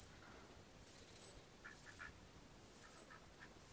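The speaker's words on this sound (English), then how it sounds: "There's the ducks under there." Ducks quack faintly from somewhere below, short nasal calls coming in a few scattered bursts over a soft, hissy outdoor background in France.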